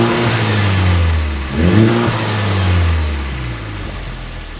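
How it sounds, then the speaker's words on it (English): Honda Civic Type R FK8 exhaust in Race Plus mode, a steady mid-pitched drone that swells as the engine revs up around the middle and then settles back, loud and close with no talking. "here's the exhaust note of the Civic Type R in Race Plus"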